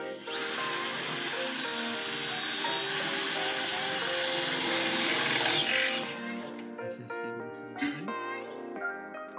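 A power drill runs steadily for about six seconds during work on a BMW E34 with an M50 engine and supercharger, then cuts off, leaving a few short clicks and knocks close by in a quiet garage.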